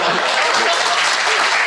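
Audience applause from a Turkish talk show studio, a dense, steady wash of clapping that stays loud and even throughout with no pauses.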